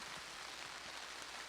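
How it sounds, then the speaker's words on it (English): Heavy rain pours over an outdoor sports field, a dense even hiss filling the short stretch, fairly faint and continuous with a few low thumps beneath. "the rain is really coming down"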